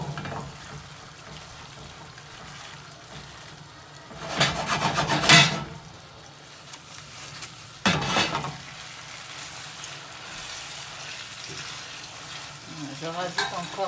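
Spaghetti with porcini, aubergine and tomato is stirred risotto-style in a pan as pasta cooking water is added. A steady low sizzle runs throughout, with louder scraping, splashing bursts in the middle and another around eight seconds in.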